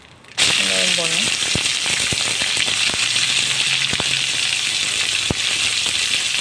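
Onions fry with curry leaves in a pan for a cluster bean poriyal, making a steady close sizzle with scattered sharp pops and spatters while someone talks over it.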